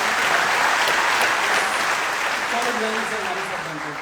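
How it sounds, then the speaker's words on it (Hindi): Loud applause breaks out from a crowd at a sales training event, thick clapping sustained from start to finish and easing slightly at the end, with a voice speaking over it near the close. "जोरदार ताली होनी चाहिए।"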